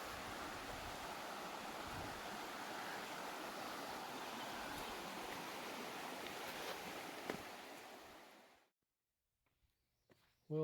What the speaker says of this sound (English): Interesting how many little springs are coming off the side of the hill here, filling this creek up more and more and more.